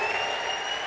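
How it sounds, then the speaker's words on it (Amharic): A church congregation claps loudly and steadily, with high sustained ululating cries running over the applause. "እልልታ ጭብጨባ"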